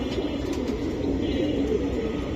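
Hammer pigeons coo together in a continuous, throaty murmur, near and fairly loud, with a few light chirps above the steady cooing.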